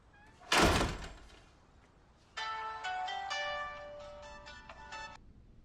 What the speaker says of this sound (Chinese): 小公，你怎么来电话了？